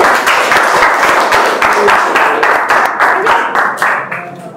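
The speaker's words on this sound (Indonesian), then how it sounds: "kasih tepuk tangan." Audience applause at an Indonesian religious lecture: loud, rhythmic clapping from a gathered crowd, steady for about four seconds before tapering off quickly to quiet.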